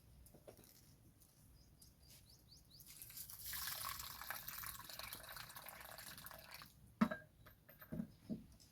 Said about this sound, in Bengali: ডালটাকে এখন আমি ভালো করে জল দিয়ে ধুয়ে নেব।